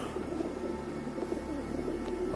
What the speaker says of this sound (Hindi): मैं नाकारा कबूतरों को दाना क्यों डाल रहा हूँ?